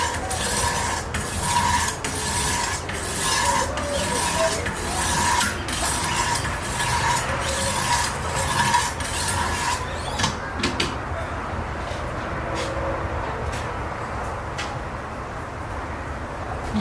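A knife is drawn repeatedly across the rough stones of a Wicked Edge Pro sharpener, giving steady, rhythmic scraping strokes for about ten seconds before thinning to a few sparse, isolated strokes.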